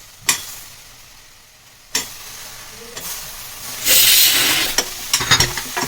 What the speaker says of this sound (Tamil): காய் சேர்த்து நல்லா வதங்கணும்.